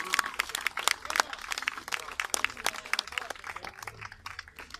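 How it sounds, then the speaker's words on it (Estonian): An audience claps at a halberd duel in Pärnu, a burst of scattered, uneven applause that thins out over several seconds, with a voice talking through it. "Teeme aplausi."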